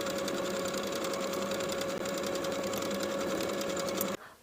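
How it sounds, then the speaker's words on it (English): A sewing machine edge-stitches the hems of a pair of shorts in one fast, continuous run of rapid stitching, close and clear, before stopping abruptly near the end. "Edge stitch all the way around along your finishing stitches"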